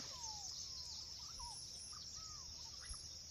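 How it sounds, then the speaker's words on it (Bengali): Birds chirp and call in a misty, still-dark forest at dawn, several thin whistled notes and tweets rising over a steady insect drone, moderately distant and without talk. "পাখি ডাকছে"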